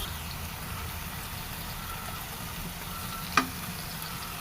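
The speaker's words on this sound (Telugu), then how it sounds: "యాడ్ చేసినాక ఇప్పుడు మనం కారం యాడ్ చేద్దాం." Soaked chana dal and chili powder sizzle steadily in a pan while being stirred, a constant close frying hiss with one brief sharp clink near the end, no voices.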